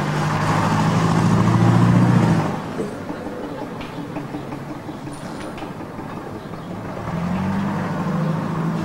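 A car, a taxi, rumbles close by with a low engine drone that swells, fades as it idles, then rises again as it pulls up, with no talking over it.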